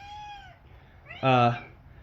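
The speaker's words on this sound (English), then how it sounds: "He is just the loudest cat I've ever seen." A cat outdoors in snowy weather gives two meows: a short, thin call, then a much louder, drawn-out meow about a second later, both close and clear over quiet background.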